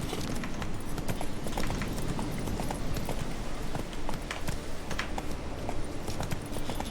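Roach the horse's hooves clip-clop steadily at a run in The Witcher 3, a dense, continuous patter of hoofbeats over game ambience, loud and close throughout.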